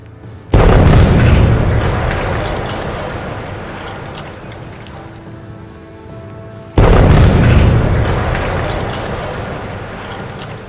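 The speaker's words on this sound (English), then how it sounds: "With a thunderous boom, the 18-meter chimney collapses like a giant tree" Demolition of an 18-meter chimney: two loud booming impacts, each followed by a long rumbling decay as the structure collapses, the second boom arriving about six seconds after the first.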